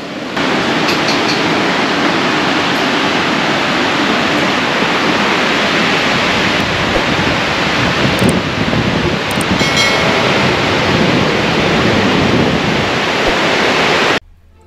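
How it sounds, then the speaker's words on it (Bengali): Sea waves roll onto the long open shore at Tajpur beach, heard from a double-decker beach shack as a loud, unbroken wash of surf that cuts off abruptly near the end. "সামনে দেখাচ্ছি সুদূর বিস্তৃত বিচ এবং সমুদ্র"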